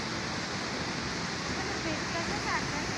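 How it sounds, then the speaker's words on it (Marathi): Steady, loud rushing roar of the Someshwar waterfall near Nashik, a continuous broadband wash of falling water with no breaks; a voice speaks faintly over it. "हाच आहे तो सोमेश्वरचा धबधबा"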